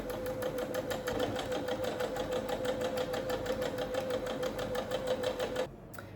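Sewing machine stitching a zip opening in white thread, a fast steady mechanical whir with rapid even needle clicks, close and continuous, stopping abruptly near the end.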